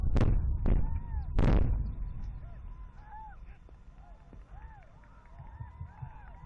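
Opening blasting shots at the Dassa mine, three loud, sharp blasts in quick succession at the start, then a fading rumble while birds chirp and call in the quieter open-air background.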